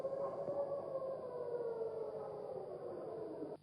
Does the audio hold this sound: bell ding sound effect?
no